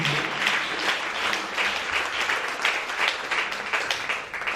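A church congregation applauds for Jesus with sustained, dense clapping that stays loud and even from start to finish.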